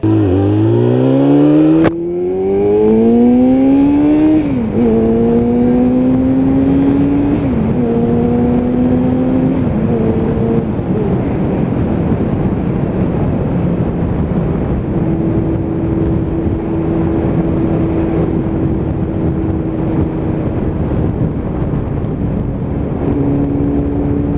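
A ZZR motorcycle at a breakfast ride stop fires up with a sharp start, then revs in rising, stepped bursts before settling into a steady riding drone, loud and close, no talk.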